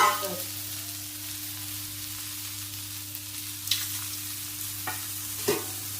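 Okra masala fries in oil in a pan with a soft steady sizzle, broken by a few sharp stirring clinks and scrapes toward the end, faint under a low background hum.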